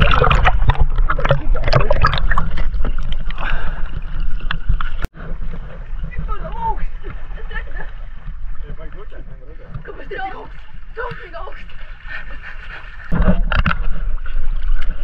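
Water rushing and gurgling against the hull of a sailing yacht on a Swedish voyage, a steady close wash with louder surges at the start and end, while people talk over it.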